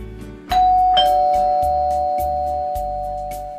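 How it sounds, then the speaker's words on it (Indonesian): An animated doorbell rings in a house, two clear chime strikes in quick succession followed by a long, slowly fading ring, loud and alone without talk. "tiba-tiba bel pintu berbunyi"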